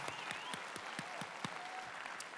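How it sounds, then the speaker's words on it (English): Applause for first responders fills a hall at an international swimsuit pageant: scattered, fairly faint clapping with distinct individual claps against a soft crowd murmur throughout. "How about a round of applause for first responders everywhere?"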